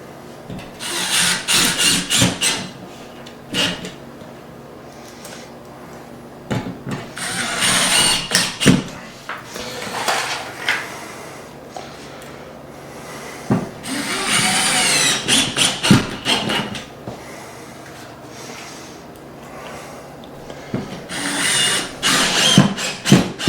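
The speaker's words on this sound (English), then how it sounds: "Put your new drywall in there. And just screw it to your studs." New drywall is screwed to wall studs with a power driver in an apartment renovation: repeated whirring bursts of screws biting into board, with scraping and handling noises between them, loud and close, with no speech.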